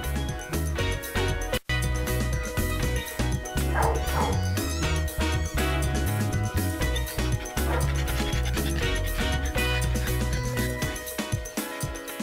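Dogs bark and yip excitedly over background music, with whining mixed in, close by and fairly loud throughout.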